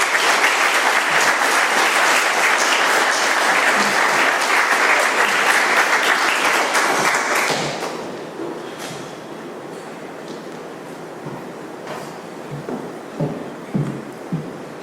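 Applause at an AA meeting, a dense, close round of clapping that lasts about seven seconds and then drops away to quiet room sounds with a few scattered noises.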